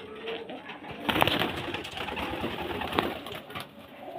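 Chennai-breed pigeons coo close by as they are let out, steady throaty calls punctuated by a couple of sharp flurries of sound.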